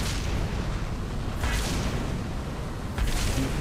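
A Gauss cannon fires in Halo 3, mounted on a Halo Wars vehicle in a Forge mod, giving two heavy booming shots about a second and a half apart over constant loud battle noise.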